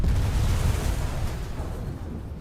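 Pe-8 bomber blowing up in the War Thunder air combat game, one heavy muffled explosion that booms at once and then rumbles down into a fading roar.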